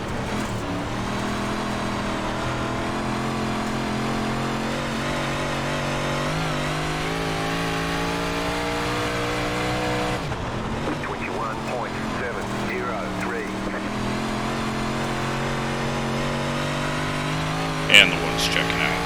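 358 modified race cars lap Williams Grove Speedway's dirt track in iRacing, a steady roar of loud engines droning and shifting pitch throughout, with a commentator talking over the noise.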